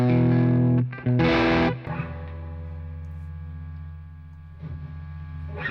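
An electric guitar played through a Bigfoot Engineering King Fuzz pedal gives a thick, buzzing fuzz tone: a loud chord, a brief choppy strum, then a long sustained note that slowly decays, with a softer re-pick near the end.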